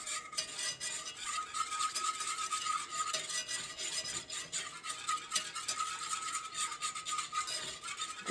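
A utensil stirs butter chicken sauce in a pan, a steady, soft rasping and scraping with a faint sizzle running throughout, no voices.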